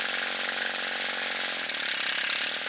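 Microcosm toy model steam engine running slowly, with a steady mechanical chugging and rattle that stays close and continuous throughout, with no talk.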